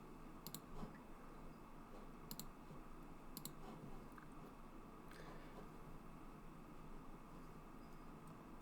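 Computer mouse clicks while working in Onshape CAD software, a few sharp, faint clicks spaced irregularly over a steady background hiss.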